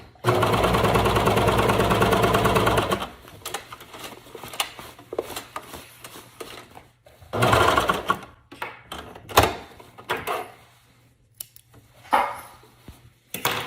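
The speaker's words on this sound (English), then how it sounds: "I'm just gonna veer off to the left and top stitch along that edge" A sewing machine runs a continuous burst of top stitching along a leggings seam for about three seconds, then goes quiet apart from faint hum and scattered handling clicks and bumps.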